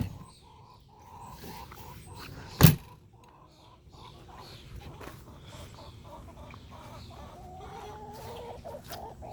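Backyard chickens cluck softly on and off close by, with one short loud knock partway through and faint background rustling.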